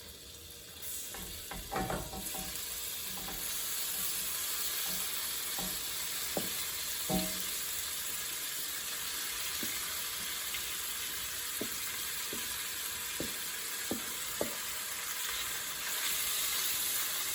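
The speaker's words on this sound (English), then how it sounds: "Now that your meat is in the skillet, you're going to cook your meat until it's brown." Meat sizzles in butter in a hot skillet, a continuous close hiss and crackle, with occasional sharp ticks and light utensil taps scattered through.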